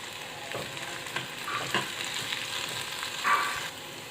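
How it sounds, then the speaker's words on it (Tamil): Beans, carrots and green peas sautéing in a pan for vegetable vermicelli biryani, a steady close sizzle with occasional soft scrapes and stirring taps, no talking. "இப்போ வெஜிடபிள்ஸ் நல்லா வதங்கிடுச்சு"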